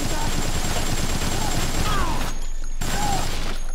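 Rapid gunfire in the zombie game Dead Rising runs as a dense, continuous loud burst, briefly cutting out before resuming, with a voice faintly mixed in.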